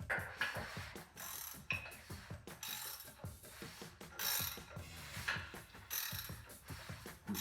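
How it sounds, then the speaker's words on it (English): Pistons moving inside a Ford FE 428 Cobra Jet V8 engine block on the bench as the crank is turned by hand, giving faint, quiet mechanical clicks and ratcheting knocks in an uneven repeated rhythm, close by with no talk. "Let's see the piston move."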